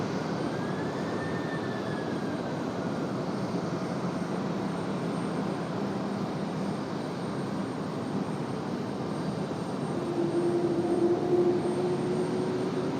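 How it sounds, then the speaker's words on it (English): An Airbus A350 airliner takes off at Raleigh-Durham airport, its jet engines giving a steady, broad roar that stays strong and fairly constant throughout. "There goes the A350."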